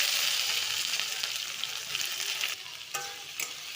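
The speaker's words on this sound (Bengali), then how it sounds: "পেঁয়াজটা ভালো করে ভেজে নেব।" Onion fries with cumin and bay leaf in a wok after potatoes, a bright close sizzle with scraping stirring strokes that grow sparser toward the end.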